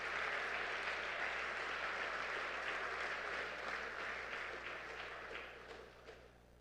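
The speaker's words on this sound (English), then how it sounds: "Can we give a round of applause" Audience at a student athlete awards ceremony claps in a dense, steady round of applause that gradually thins and fades over several seconds.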